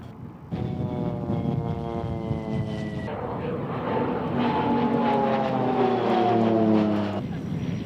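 A Pilatus PC-7 propeller aircraft passes at the 1997 Mildenhall Air Fete, its engine tone loud and steady before sliding downward in pitch as it flies by, with a voice speaking faintly underneath.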